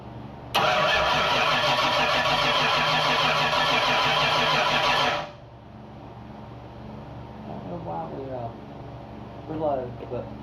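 A 347 stroker V8 with an MSD ignition box cranks and catches, roaring loud and steady for several seconds before cutting off, after which people talk nearby.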